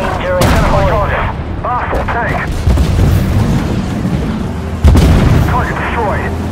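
Tank cannon fire and explosions in the video game Armored Warfare, several sharp booms and blasts over a rumbling battle bed, with a voice talking over parts of it.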